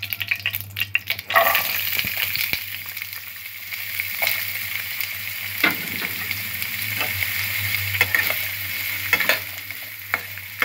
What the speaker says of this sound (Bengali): গাজরটা হালকা করে ভেজে নেব।